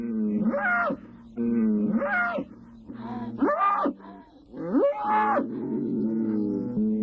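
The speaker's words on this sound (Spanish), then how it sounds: "Mugidos de llamada, de queja o desafío, que inundan de inquietud el sereno ambiente de la dehesa." Fighting bulls low and bellow out on open dehesa pasture, four or five long drawn calls in succession, loud and near, some rising into a moaning wail.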